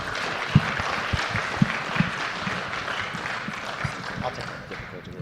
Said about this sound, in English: One more round of applause, not only for the companies, but also for the sponsoring ESOs.